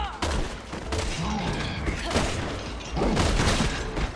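Magnum revolver fire in Resident Evil 6, several loud booming shots spaced irregularly amid dense game action noise and echoing impacts, with a voice talking faintly underneath.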